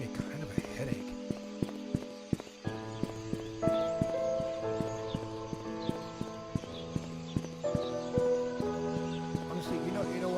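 Steady hoof-like footsteps from the video game Painscreek Killings clop in a regular rhythm over sustained, layered ambient music, close and prominent, with no talking.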